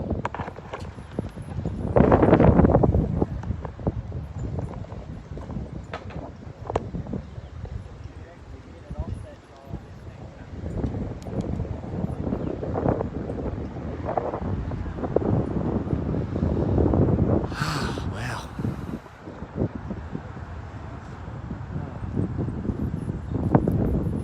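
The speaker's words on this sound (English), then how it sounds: "This wind." Wind gusts across an outdoor lawn bowls green during a mixed fours final, a steady loud rumble and buffeting on the microphone that swells and eases throughout.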